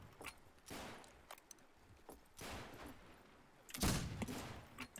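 Sniper rifle fire in a shooter game match: a few faint, sharp single shots go off at irregular intervals over quiet background noise, with one louder, closer report near the end.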